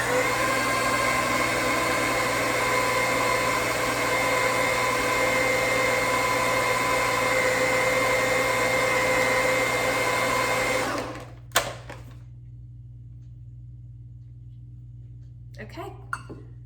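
A blender whirs loudly, mixing a thick sprouted bread dough, with a steady motor drone. It cuts off near the end, leaving quiet room sound and a few faint clicks.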